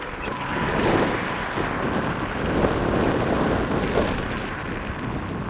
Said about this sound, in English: Because it's really, really windy.